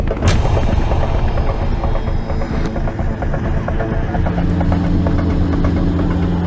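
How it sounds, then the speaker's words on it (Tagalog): China Coast Guard helicopters fly overhead at sea, a loud continuous rotor and engine roar with a few sharp thumps early on, close and filling the whole stretch. "Nagpalipad sila ng 2 helicopter."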